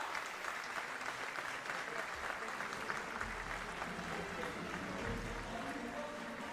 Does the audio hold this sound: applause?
yes